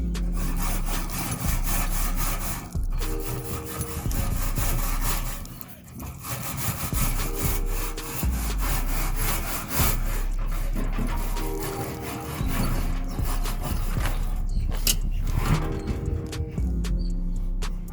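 A grate cleaning stone scrubs a stainless steel grill grate with loud, close, rhythmic rasping. The back-and-forth strokes sound like sawing and go on for the whole stretch, with only brief breaks between passes.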